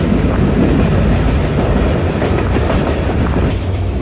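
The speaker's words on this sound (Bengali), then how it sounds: "তো আমি খুবই আনন্দিত, ট্রেন চলে আসছে।" Paharika Express passenger train arriving at a station, a loud, steady rumble of rolling railcars with rhythmic clickety-clack of wheels on rail joints continuing throughout, no voices.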